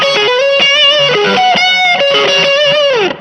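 Electric guitar played through a heavily saturated distortion effect pedal, lead-style tone with sustained, buzzing notes in a continuous melodic phrase, loud and close, no talking.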